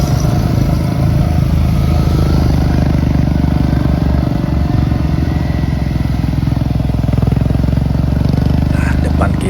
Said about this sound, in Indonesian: depan kita ada Pak Ojan yang menggunakan motor Royal Enfield Himalayan, cc-nya 411